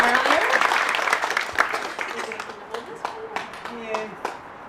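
An audience at an event claps in a fairly loud burst that fades gradually into scattered claps, with voices over it.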